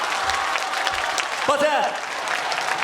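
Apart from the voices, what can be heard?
audience applause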